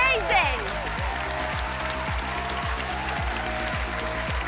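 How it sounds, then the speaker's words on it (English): Applause from the audience at a classical music competition show, a Virtuosos V4+ semifinal, carries steadily through the whole stretch over a rhythmic musical beat. "so one more round of applause"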